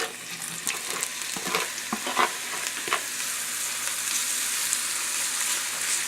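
Marinated fish fries in about a tablespoon of olive oil in a pan, giving a continuous close sizzle with crackles and a few scraping clicks early on, steady throughout.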